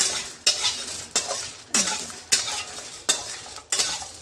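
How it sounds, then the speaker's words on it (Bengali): Whole coriander, cumin and garam masala spices are stirred in a dry wok, a spatula scraping and rattling against the metal in about seven sharp, regular strokes, close and clear with no talk. "আর এই যে গোটা গরম মশলা দিয়ে আমি এবারে এটাকে শুকনো কড়াতে ভালো করে একটু নাড়াচাড়া করব।"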